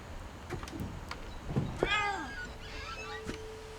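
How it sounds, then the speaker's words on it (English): A cat in What Remains of Edith Finch meows a few times, short rising and falling calls against a quiet, faintly rustling background, with a couple of soft thumps in between. "I hear a cat."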